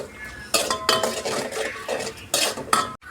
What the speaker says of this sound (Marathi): खोबऱ्याचे काप आपल्याला चांगले थोडेसे तळून घ्यायचे आहेत तेलामध्ये